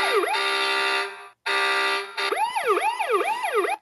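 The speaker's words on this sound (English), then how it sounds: "and then if I turn off the horn, the sirens will keep going." The electronic sirens of a 2015 Hess toy fire truck play loud and near. Two bursts of a steady buzzing horn tone come first, then rising and falling siren wails run on alone.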